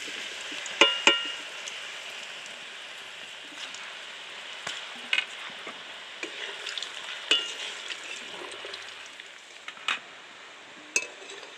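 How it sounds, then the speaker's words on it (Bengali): Sesame seed laddoos (til naru) fry in a pan with a quiet, steady sizzle, broken by sharp clinks and scrapes of a utensil against the pan at irregular intervals. "বাকিগুলো আমি একই রকম করে ভেজে নেব।"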